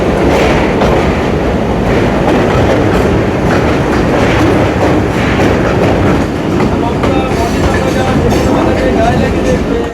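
A commuter train pulls into Bidhannagar station, formerly Ultadanga, in Kolkata, with a loud, close, continuous rumble and a rhythmic clickety-clack of wheels on rails throughout.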